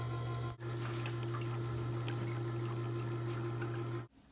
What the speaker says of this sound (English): as Opal rinses, a yellow light will spin and you will hear water circulating